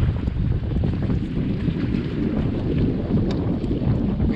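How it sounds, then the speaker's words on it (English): Steady, loud wind on a fishing pier buffets the microphone with a constant low rumble and hiss, with no talking over it. "It's a little windy."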